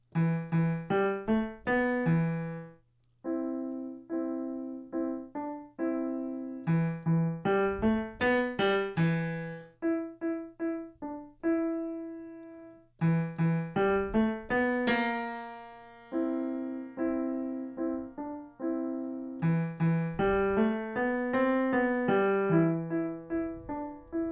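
A music piece plays on a clear pitched instrument, with a low sustained drone under a string of plucked or struck melodic notes in phrases that alternate between low and high registers, steady and unaccompanied by voices.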